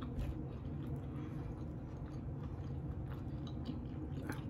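Someone chews a chili cheese hamburger topped with corn chips close up, with soft, wet chewing and faint crunches repeating steadily over several seconds with no speech.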